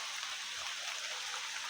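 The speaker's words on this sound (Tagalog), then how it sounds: "Medyo naulan-ulan lang po." Light rain patters steadily on leaves in a forest, a soft continuous hiss of drops without distinct individual hits, fairly quiet and unbroken for the short duration.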